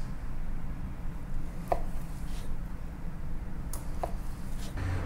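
A knife slices off the top of a cooking ingredient for a salmon dish, giving a few sparse, soft cutting taps over a steady background hiss.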